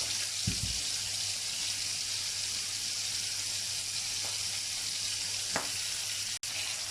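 Quiet, steady bubbling and sizzling of fish curry gravy simmering in a pan, continuous throughout, with a couple of faint clinks.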